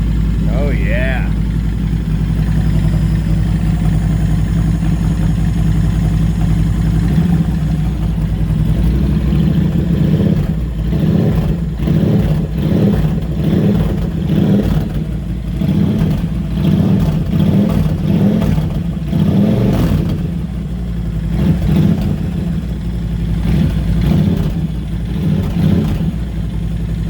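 A 2011 Honda Fury VT1300CX chopper motorcycle idles with a deep, close rumble, then is blipped through a series of throttle revs that rise and fall rhythmically, with someone talking over it.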